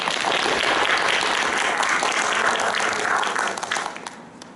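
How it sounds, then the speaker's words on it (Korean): Audience at a Seoul Women's University public administration department mock cabinet meeting performance applauds as a professor is welcomed to the stage, a dense, steady wash of many clapping hands that fades out near the end. "다들 큰 박수로 맞이해 주시기 바랍니다."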